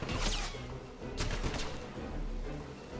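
Shots ring out in a Wolfenstein firefight at a train station: a few sharp cracks early on, then a continuing low rumble of distant combat noise.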